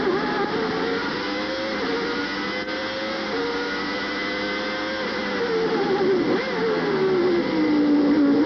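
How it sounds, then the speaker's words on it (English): A high-pitched 1990 Renault Formula 1 engine screams steadily at the United States Grand Prix, its pitch holding and then dipping and rising with gear changes, loud and continuous with no talk. "Let's listen to the sound of this Renault engine as Terry Boutsen takes us around."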